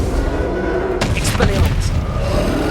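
A Bombarda spell explosion from the video game Hogwarts Legacy erupts in a sudden loud blast about a second in, followed by rumbling debris and further bursts over a dense, continuous game soundscape.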